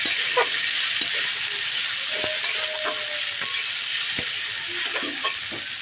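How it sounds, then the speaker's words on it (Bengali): Lentils (dal) fry and bubble in hot oil in a wok for a tarka, giving a steady close sizzle with scattered clicks and scrapes as they are stirred; no one speaks. "দেখো ডালটাকে কিন্তু আমি ভেজে নিচ্ছি দেখছো কীরকমভাবে ফুটছে"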